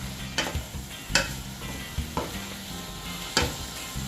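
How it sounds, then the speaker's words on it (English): A wooden or metal spoon stirs a pot of saltfish and gungo pea (pigeon pea) stew, giving a handful of distinct scraping knocks against the pot over a soft, steady simmering bed, with no talk. "Then after adding the saltfish freestyle, you want to stir everything together."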